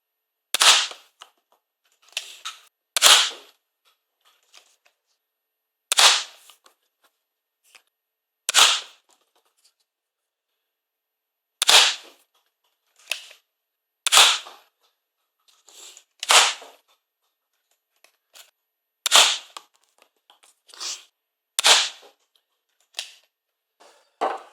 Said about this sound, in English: we'll put some shots over the chronometer